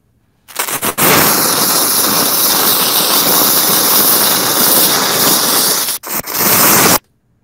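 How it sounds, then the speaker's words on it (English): A loud, steady hissing sizzle of a burning cannon fuse sound effect for a video game, starting abruptly, holding for about six seconds with a brief break, then cutting off sharply. "we have a series of fuse sounds"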